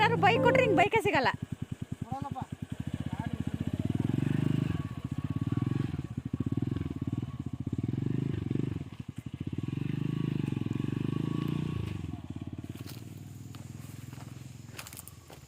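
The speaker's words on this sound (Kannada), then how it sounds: "3 ಜನನೂ ಈಗ ಬೈಕಲ್ಲಿ ಹೋಗ್ತಾ ಇದ್ದೀವಿ" A motorcycle carrying three riders putters along at close range, its engine a steady throbbing drone with brief dips and surges as it rolls on; a short burst of voices opens the ride.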